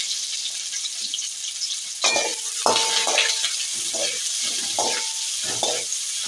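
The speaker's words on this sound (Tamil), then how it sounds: "பெரிய வெங்காயம் போட்டாச்சு தாளிக்கிறதுக்கு" Onions sizzle and crackle loudly in hot oil, with intermittent scraping and stirring sounds from a utensil in the pan; no speech.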